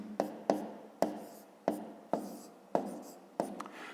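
Pen or chalk writing numbers by hand for a multiplication, seven crisp taps and short strokes in an uneven rhythm, close and quiet with no speech.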